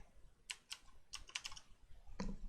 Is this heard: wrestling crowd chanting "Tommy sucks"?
no